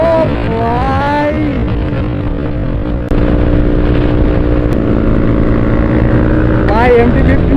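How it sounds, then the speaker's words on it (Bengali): Yamaha MT-15 motorcycle engine idling and revving among a lineup of bikes on a Sunday group ride, a steady close engine drone with rising and falling rev sweeps, joined partway through by a second, louder engine. "ভাই MT-15 আওয়াজ দেখছো গাইস?"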